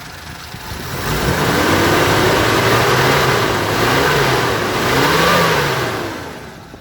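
A Suzuki Katana GX 2005 engine revs hard and loud, climbing and falling in pitch through two long surges before easing off, with no voices.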